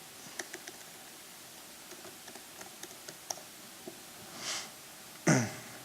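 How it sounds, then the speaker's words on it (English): A computer keyboard being tapped while a password is entered on a software-defined mainframe system, a dozen or so light, sparse clicks spread out, followed by a sniff-like breath and a louder thump at the end. "Type in password."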